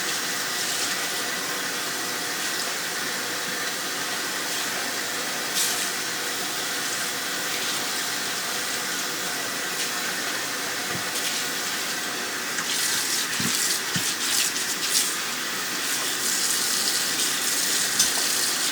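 Tap water running steadily into a kitchen sink while raw chicken is rinsed, a constant close hiss and splash with a few brief clatters and knocks toward the end, no talk.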